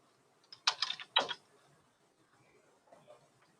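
Typing on a computer keyboard, with a short quick cluster of close key presses followed by a few fainter scattered taps in a quiet room.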